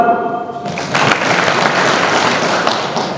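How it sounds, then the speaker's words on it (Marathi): An indoor audience at a health talk claps together in a loud, dense burst of applause that starts suddenly and keeps going steadily, following a brief hum. "दादांसाठी बरोबर टाळ्या वाजवा, एकटेच रिस्पॉन्स द्यायला लागेल"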